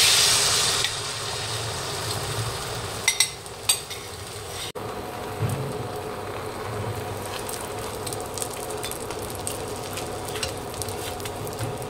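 A paratha frying in mustard oil on a home kitchen stove gives off a soft, steady sizzle, with a few brief clinks and knocks early on.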